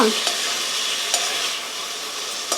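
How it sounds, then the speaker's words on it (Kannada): Chicken liver frying with garlic in a pan, a steady loud sizzle with a few brief scrapes of stirring. "5 ನಿಮಿಷ ಲಿವರ್ನ ಹೀಗೆ ಫ್ರೈ ಮಾಡ್ಕೊಳ್ಳೋಣ."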